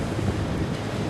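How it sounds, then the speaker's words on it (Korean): Sea waves wash and surge at an offshore construction site where professional divers work, a steady broadband roar mixed with wind buffeting the microphone, continuous and fairly loud with no voices. "파도 온다 파도 조심해라"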